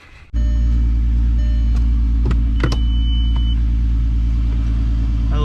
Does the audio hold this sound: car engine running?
yes